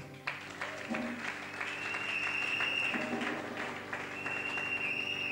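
Audience applauding at a graduation ceremony, a steady wash of clapping that holds for the whole stretch, with faint voices and a high tone running beneath it.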